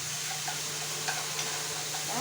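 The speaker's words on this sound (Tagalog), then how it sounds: "Haluin hanggang maluto ang minced pork." Minced pork stirred as it fries in a pan, a steady close sizzle with soft scraping strokes of the utensil throughout.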